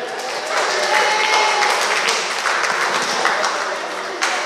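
An audience at a community police meeting on domestic violence applauds Pastor Huggins, a steady wash of clapping that swells after the first half second and holds briefly before fading out.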